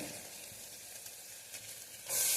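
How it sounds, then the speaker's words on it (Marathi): Peas fry in hot oil with masala, a soft steady sizzle that swells into a sudden loud hiss near the end as they hit the pan. "तेलातच मी वटाणे घालत आहे मसाल्यामध्ये"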